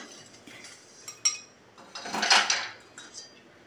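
Metal utensils clatter and scrape as a crumbled leftover-roti mixture for churma laddu is moved from a kadhai into a vessel. Light clinks come first, then a louder scraping burst midway, with no talk.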